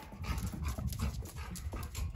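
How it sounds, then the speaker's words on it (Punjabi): A newly brought female Labrador dog makes brief close sounds, soft panting and faint whimpering, over a short stretch with no speech. "ਕੁੱਤੀ ਲਿਆਂਦੀ ਆ ਲੈਬਰਾ ਦੀ"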